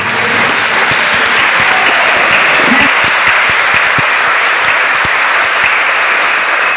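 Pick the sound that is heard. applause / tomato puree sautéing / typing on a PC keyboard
applause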